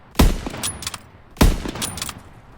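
A gun firing in a Call of Duty video game: two loud, punchy shots a little over a second apart, each followed by a short rattling tail.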